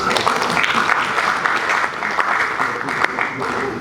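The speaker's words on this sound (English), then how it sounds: "So please help me applaud that action." An audience at a valedictory event for a university professor gives loud, dense, continuous applause close by that does not let up, with a few voices rising through it.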